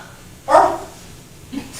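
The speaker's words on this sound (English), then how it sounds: "Thought I heard a little dog bark or something." A small dog near a lake gives a single short, sharp bark at a distance, followed by a fainter second yip, against quiet outdoor background.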